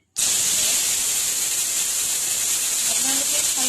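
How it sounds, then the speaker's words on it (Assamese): Dried fish drop into hot oil in a wok with turmeric and burst into a loud, sudden, steady sizzling hiss that holds unbroken after the fish go in, close to the pan. "এতিয়া মই কেৰাহীত মাছকেইটা ভাজি লওঁ"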